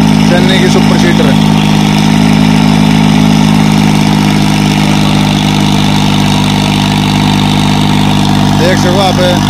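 A New Holland tractor engine runs steadily with a Channy super seeder attached, a continuous mid-pitched idle drone with brief rattling bursts near the start and end.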